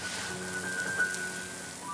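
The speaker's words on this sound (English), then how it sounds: "Oh no, it's raining." Steady rain falls in a children's animated show, a soft continuous hiss with no talking, heard alone for a couple of seconds.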